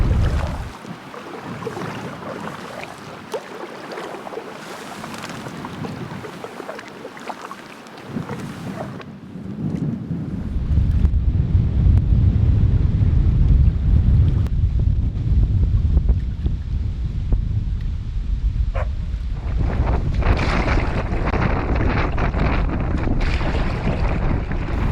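Wind buffets the microphone while canoeing on the Wild Nisutlin River in the Yukon: lighter gusty rushing at first, then a heavy, loud low roar that continues steadily to the end.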